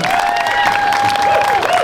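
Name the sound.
round of applause for Celine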